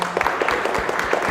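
An audience claps for a speaker at a religious lecture on emuna: a steady, dense patter of many hands, fairly close and even, with no voices over it.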